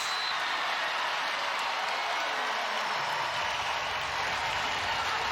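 A women's volleyball crowd, Texas against Stanford, roars and applauds in a dense, sustained wash of cheering that fills the arena for several seconds.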